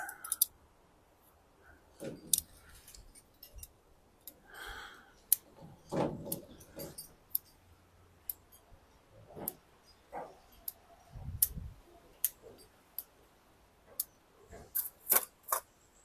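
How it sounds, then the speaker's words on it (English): Scissors snip the long branches of an overgrown Seiju elm bonsai, giving sharp, scattered clicks close by at irregular intervals amid faint handling rustles. "So I'm just going to trim off the long bits."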